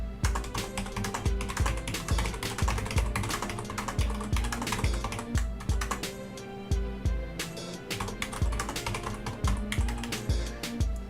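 Steady run of computer keyboard typing while editing text on a web page, the keystrokes close and crisp with a fast, uneven rhythm, a few short pauses between bursts and no talking.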